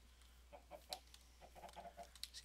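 Faint Minecraft chicken clucks and soft bird calls come in short bursts over a low steady hum, distant and quiet.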